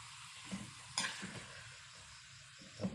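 Sliced snake gourd gets stirred in a pan, a soft low sizzle with a couple of brief scraping strokes and a light utensil clink, faint and close, without speech.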